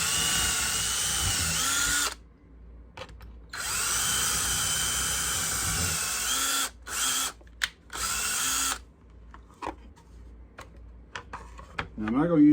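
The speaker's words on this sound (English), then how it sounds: "This is the hole for the side of the bee trap that I'll put a screw in." A power drill bores a hole into the wooden side of a carpenter bee trap, running in several loud bursts separated by pauses and small handling clicks.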